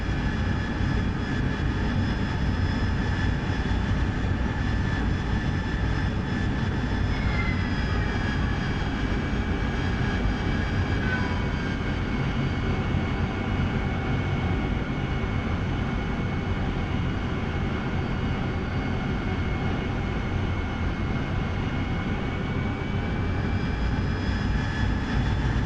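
Combat jet engine in the DCS World flight simulator, a constant droning roar with a thin whine over it, steady and unbroken for the whole stretch with no talk.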